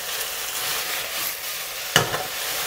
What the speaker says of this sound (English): We'll fry them until they are no longer red.